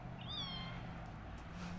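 A cat gives a single short, rising meow, fairly faint and close in a quiet room, followed by low background hum.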